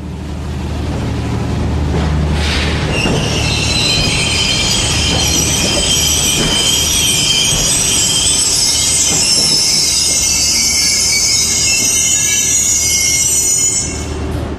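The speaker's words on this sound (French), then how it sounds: "C'est sur la première voie que Dijon accueille le Talgo pendulaire Paris-Barcelone." A Talgo tilting train on the Paris–Barcelona run rolls through Dijon station, steady loud rumble with prolonged high-pitched wheel squeal building and sustained close by throughout.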